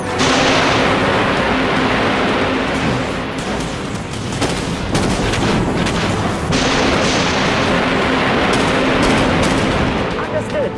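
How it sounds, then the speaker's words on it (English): Torpedo launches in the Dreadnought spaceship combat game, heard as dense, continuous booming weapon fire and blasts filling the whole stretch, loud and sustained with sharp bursts layered over a heavy rumble. "Launching torpedoes."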